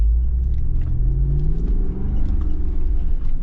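An off-road vehicle engine lugs at low RPM while climbing a hill, a steady deep rumbling drone with slight pitch shifts and no voices.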